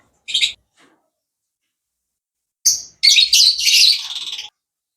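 Lovebirds chirp in a bird farm room: a short high chirp, a pause, then a denser burst of overlapping calls and twitters nearby, with no talk.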